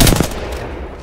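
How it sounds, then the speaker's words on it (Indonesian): Rapid automatic gunfire from a carbine fired while crouching in Apex Legends, a quick burst of shots up close that trails off within a second. "Nah kita nembak jongkok ya"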